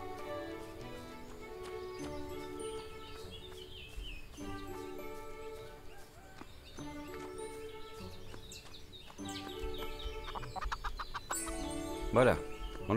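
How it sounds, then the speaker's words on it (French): Chickens clucking in the farming video game Everdream Valley, a series of short rhythmic clucks and calls over a light game soundtrack, building to a louder squawk near the end. "Tout ça pour les poulets, hein."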